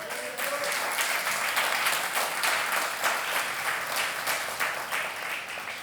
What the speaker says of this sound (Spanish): Dar un aplauso al Señor, hermano.